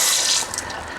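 Tap water gushes steadily into a sink while raw chicken is rinsed, a loud close splashing rush that eases off near the end.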